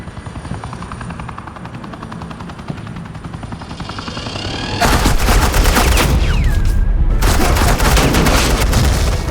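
Suppressing gunfire in the Batman Telltale game opens over a droning helicopter-like rumble, then a dense, loud burst of rapid automatic fire takes over, with a brief gap before the shooting continues.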